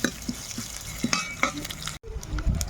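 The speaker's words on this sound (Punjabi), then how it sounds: "ਤੇਲ ਆਪਣਾ ਗਰਮ ਹੋ ਗਿਆ ਤੇ ਇਹਦੇ ਵਿੱਚ ਆਪਾਂ ਸੌਂਫ ਪਾ ਦਾਂਗੇ" Fennel seeds sizzle in hot oil in a pan for amla chutney, a soft close frying hiss broken by light clicks and scrapes of stirring, with a brief pause before the sizzle resumes.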